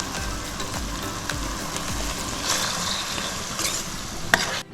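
Green chillies sizzle and crackle in hot oil for prawn egg curry while a utensil stirs them. The pan fizzes steadily and close, with scraping strokes and no voices.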